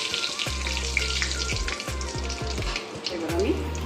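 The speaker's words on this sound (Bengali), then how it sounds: "আমি ওই তেলে শুকনো লঙ্কাটা ফোড়ন দিচ্ছি" Dry red chilli, Bengali five-spice and bay leaf hit hot oil in a pan, giving a loud continuous sizzle and crackle with occasional low knocks from a utensil.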